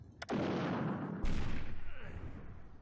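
A massive artillery barrage in a war video game, aimed at anti-aircraft guns: a sharp crack, then a heavy, continuous roaring rumble of blasts that swells again midway and fades slowly, loud and close.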